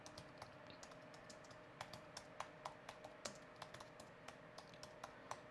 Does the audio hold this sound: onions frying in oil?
no